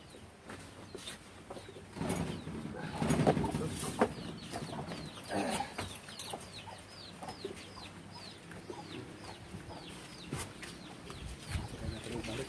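Chickens cluck repeatedly in short, scattered calls, with a louder rustling burst early on and steady background noise throughout.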